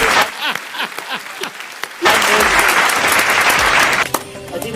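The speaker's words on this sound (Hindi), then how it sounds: "भाई रोहित के लिए ताली बजाइए।" Audience applause for Rohit at a KBC-style comedy quiz show. A few scattered claps build into loud, sustained clapping from a crowd that fades after a couple of seconds.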